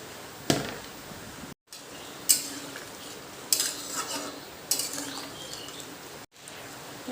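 Jackfruit added to a pan for prawn curry and stirred, a quiet background sizzle punctuated by a few sharp clinks and scrapes of a utensil against the pan, with brief drops to silence and no talking.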